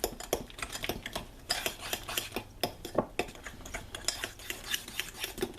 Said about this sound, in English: We're going to beat that to mix that in with the egg and sugar.